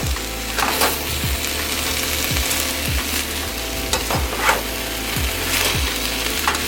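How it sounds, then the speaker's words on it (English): Kale being stirred and folded into a pot of pasta, with repeated scraping, wooden-sounding stirring strokes over a steady sizzle, close and fairly loud. "So I'm gonna put all that in the pot. All right, so try to work this kale to the bottom."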